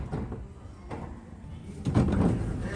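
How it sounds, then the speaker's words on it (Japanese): Sliding doors of a Tokyo Metro Yurakucho Line local train bound for Wakoshi close at Shin-kiba station, giving a couple of dull thumps over a busy background hum. "列車に乗り込み、そして扉が閉まります。"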